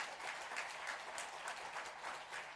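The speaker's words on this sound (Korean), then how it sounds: "우리 두 분 박수로 한번 격려할까요?" Steady applause from a church congregation during a Sunday service, many hands clapping continuously at an even level, somewhat distant.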